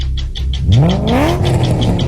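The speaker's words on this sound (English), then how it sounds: "This is the sound of an engine" A car engine revs up in one rising, steady sweep, loud and close, with no one talking.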